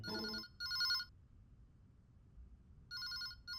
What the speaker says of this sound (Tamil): மச்சான், உனக்கு தான் ஃபோன்.